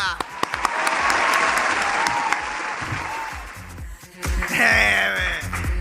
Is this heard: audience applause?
yes